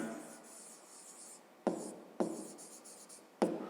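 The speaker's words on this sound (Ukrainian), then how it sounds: "Отже, записуємо." Pen writing out a fifth-grade math solution, a soft close scratching stroke followed by three sharper taps and scribbles on paper, no talk.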